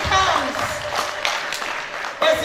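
Audience applause at a Masvingo book launch on artificial intelligence, greeting Prof. Mutambara; dense steady clapping fills the room, swelling again near the end, with voices mixed in.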